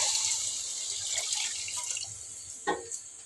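A steady stream of water pours with a bright hiss into a pot of cooked vegetables for drumstick sambar, ending in a couple of short splashy knocks.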